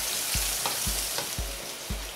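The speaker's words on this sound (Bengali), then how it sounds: "তেল বেশ গরম হয়ে গেলে 125 গ্রাম মতো পেঁয়াজ কুচি দিয়ে দিচ্ছি।" About 125 grams of chopped onion fries in hot oil for mutton korma, with a steady loud sizzle and regular dull thumps of stirring about every half second.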